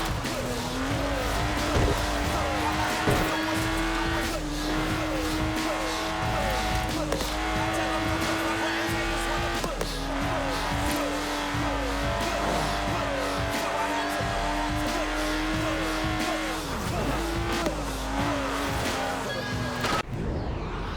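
A British racing green Lotus in Forza Horizon 4 drives with a loud, sustained engine drone, rising and falling through gear changes, with occasional tire squeal and a voice speaking over it.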